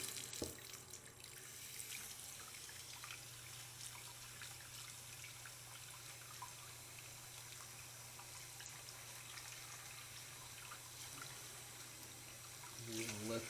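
Water runs continuously through an AquaBliss shower filter being rinsed, a steady faint rushing flow with a low hum beneath and a slight swell near the end, with quiet talk under it.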